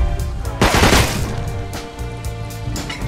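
Gunfire in the survival video game Rust, with a burst of rapid shots near the start followed by scattered single cracks, loud and close with no talking.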